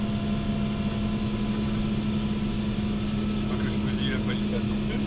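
A tractor engine drones low and steady in first gear, with a constant rumbling hum and faint clatter, sounding close and unchanging throughout.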